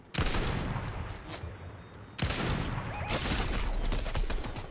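Loud, dense bursts of rapid gunfire fill a video game battle in long, sustained volleys broken by short pauses, with shots close and overlapping.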